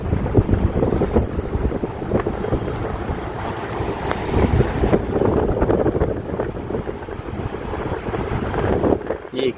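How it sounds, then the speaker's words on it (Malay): Strong wind roars and buffets at a 27th-floor hotel window in Kuala Lumpur, a loud, continuous rumbling gust that fills the whole stretch. "Kuat angin. Gila lah anginnya kuat."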